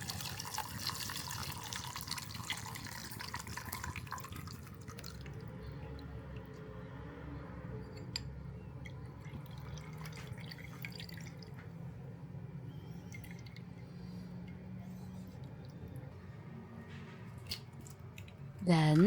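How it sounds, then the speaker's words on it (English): Spice broth for dumpling and wonton filling is strained through a sieve, giving a soft trickling pour at first that thins to faint drips, with a clatter at the end. "We'll strain it so that we can have a clear liquid without any bits"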